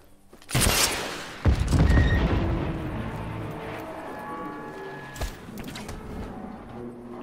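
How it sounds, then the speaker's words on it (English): Cluster rockets exploding in the video game Just Cause 3: a sudden heavy blast burst, then a second booming hit and a long rumbling decay with one more thump, loud and close, with no talk. "Oh my god, fucking cluster rockets."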